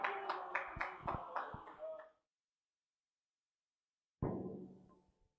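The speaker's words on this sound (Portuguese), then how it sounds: "Uma salva de palmas e forte para Jesus de nosso irmão essa noite." Several hands at a church service clap in a quick, even rhythm for about two seconds, then stop abruptly; after a silent gap, a brief burst of further sound follows.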